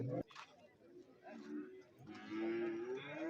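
Cattle at a buffalo market give several deep, drawn-out moos, faint at first, then louder and longer near the end, with people talking nearby.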